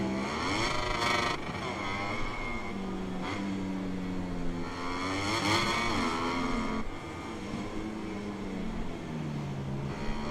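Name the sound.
race cars in a sim racing video game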